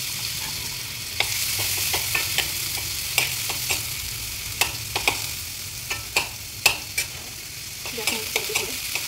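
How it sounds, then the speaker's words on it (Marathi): Finely chopped tomato frying in oil in a home kitchen for mutton rassa, with a steady sizzle under a series of sharp, repeated scrapes and clicks as a spoon stirs the pan. "तर त्याच तेलामध्ये आपण ना आता जो बारीक केलेला टोमॅटो आहे ना तो परतून घेऊ."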